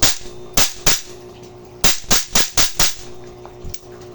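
A Tokyo Marui MWS BCM 14.5 airsoft rifle fires on full auto in sharp, loud, rapid bursts of snapping shots separated by short pauses, heard close up.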